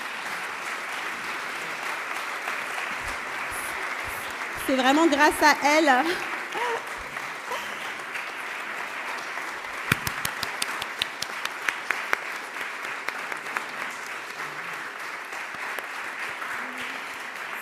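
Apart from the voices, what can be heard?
audience applause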